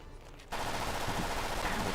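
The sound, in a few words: machine gun fire in modded Skyrim, a video game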